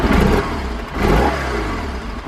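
A BMW R1100GS motorcycle engine ticking over near idle, a close, loud, steady mechanical drone with a gentle swell partway through.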